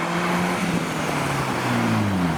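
A car arriving at a JDM meet in pouring rain, its engine a steady low drone rolling past close by under a constant wash of rain, with no talk.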